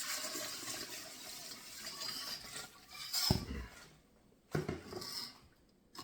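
Four quarts of crawfish broth dumped from a container into a soup pot, splashing and sloshing in two heavy bursts over a steady background of kitchen clatter, with no talking.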